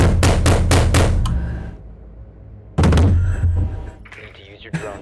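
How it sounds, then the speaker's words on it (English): Loud, hard thumps of a fist or hammer-like blow on a table during a gaming session: a rapid burst of about five bangs, then a single heavy bang after a pause, with faint talk and game sound between. "How hard can you bang the table?"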